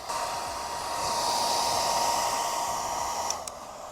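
A hair dryer stands in for a heat gun, warming a matte carbon fiber EVBASE spoiler on a Tesla Model 3, giving a steady close-up airy whine for a few seconds, ending with a small click as it shifts.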